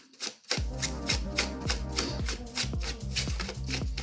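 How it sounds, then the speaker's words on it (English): Tarot cards are riffle-shuffled close and loud, a rapid rhythmic flutter of slapping cards after a brief quiet start. "I apologize if the shuffling's really loud"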